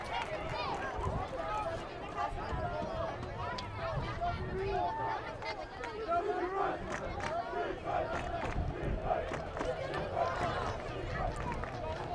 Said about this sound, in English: The Marshfield stands packed with fans. Everybody cheering on Marshfield